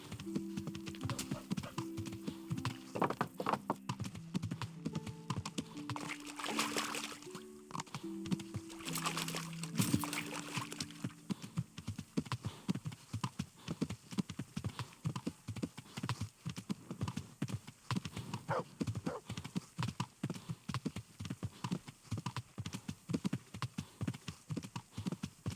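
Horse hooves clip-clopping in Kingdom Come: Deliverance, a steady rhythmic trot of close hoofbeats running throughout, with a few tonal game sounds over the first ten seconds.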